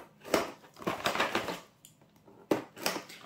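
Cardboard crinkles and tears in a few rough, scraping bursts, close up, with a sharp rip near the end.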